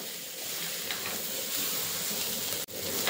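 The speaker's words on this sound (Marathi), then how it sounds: "आता त्यामध्येच आपण खोबऱ्याचं कीस घालत आहोत आणि ते सुद्धा व्यवस्थित भाजून घ्यायचं" Grated coconut roasts in a pan for an egg curry masala, giving a continuous soft sizzle and hiss with a few faint stirring scrapes and a brief click near the end.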